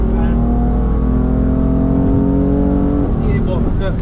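BMW M4 F82 engine heard from inside the car during a manual paddle-shift downshift, a steady loud drone with a rising pitch sweep and a quick blip near the end, under occasional talk.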